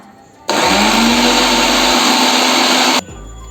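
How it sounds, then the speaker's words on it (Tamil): A mixer grinder whirs loudly and steadily for about two and a half seconds while blending lemon juice ingredients with chilled water, starting and stopping abruptly, with quiet background before and after. "இது எல்லாத்தையும் சேர்த்து மிக்சியில் வச்சுருக்குங்க ரெண்டு நிமிஷம் அடித்து எடுத்துக்கலாம்"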